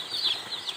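Newly arrived chicks peeping in a brooding area, a steady run of small, high, thin chirps overlapping one another at close range, with no talk.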